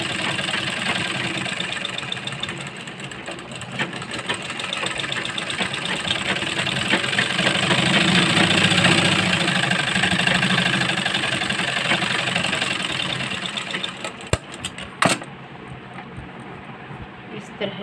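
Sewing machine running continuously while stitching around the round neckline of a blouse waistline belt, a steady mechanical whir that holds for most of the clip before stopping with a few brief clicks near the end.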